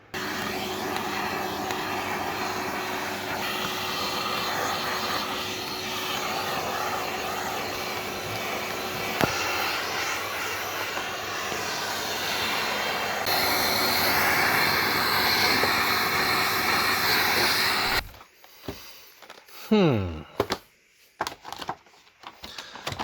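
The cooler fan of an Acer Predator X27 monitor whirs with a steady broadband hum and a faint tonal whine, holding for about eighteen seconds before cutting to scattered handling clicks and knocks.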